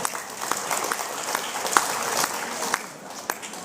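An audience applauds at a religious lecture: scattered, uneven claps over a soft crowd murmur, moderately loud and irregular, fading slightly toward the end.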